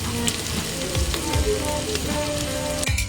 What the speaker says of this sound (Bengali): এবার সাদা তেলটা দিয়ে দিচ্ছে